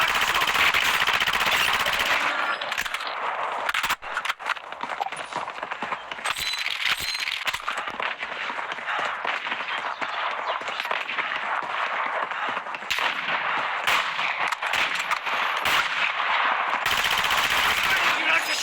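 Rapid automatic gunfire and single shots in the Warzone Mobile battle royale video game crack loudly and repeatedly, with bursts and pauses over a steady game background.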